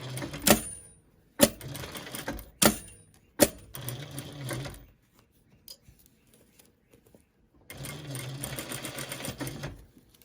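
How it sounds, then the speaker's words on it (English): Sewing machine running a sweeping stitch around a nose wire on a homemade face mask, with cream top thread and green bobbin thread; loud bursts of rapid stitching start and stop several times, with a long run near the end. "I'm just going to do a nice sweeping stitch along the perimeter of the wire."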